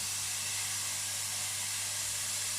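Diced lardons sizzling in a dry pan with no oil or butter, rendering their fat before onions go in; a steady, soft frying hiss runs evenly throughout, with no talk.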